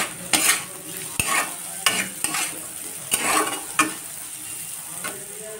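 Potatoes fry in a pan with a steady sizzle, broken by repeated scrapes and knocks of a utensil stirring at an uneven pace.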